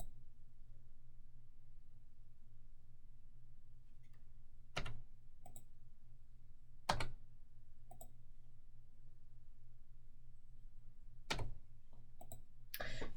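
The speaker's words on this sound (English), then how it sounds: "I can go ahead and type in the answer." A computer keyboard on a math student portal, with a few sparse, crisp key clicks spaced several seconds apart over a quiet low electrical hum as an answer is typed in.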